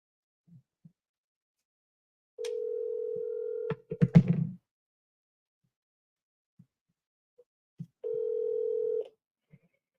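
On an outgoing phone call, an electronic ringback tone sounds in two long steady bursts, separated by a cluster of clicks and thumps from the handset, with near silence around them and no voices.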